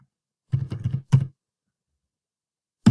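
Someone types on a computer keyboard, a quick burst of several soft close clicks followed by a short second burst, then silence until one more tap at the end.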